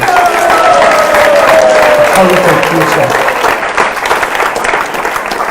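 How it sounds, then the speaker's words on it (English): A large audience at a devotional gathering gives a loud, sustained round of applause with some cheering, while a voice talks over the clapping. "So I think we can give everyone a round of applause"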